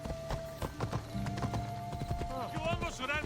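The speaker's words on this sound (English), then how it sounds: "Let's go, horse. Gonna haul ass across the land." A horse gallops with rapid, rhythmic clip-clop hoofbeats and a whinny near the end, in the Assassin's Creed Odyssey video game, while a voice speaks over it.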